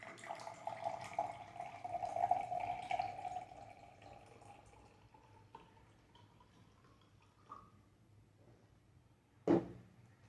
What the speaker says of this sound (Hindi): सो मैं इस पानी को इधर से इस ग्लास में से मैं पानी को इधर शिफ्ट कर रही हूँ।